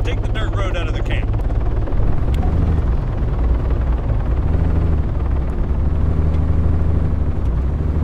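Helicopter in the video game ArmA 3, a steady low rotor and engine drone running through the whole stretch, with game sounds and people talking over it.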